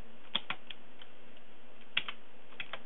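Light typing on a computer keyboard, a few quick key clicks in two short bursts separated by a pause, close and quiet.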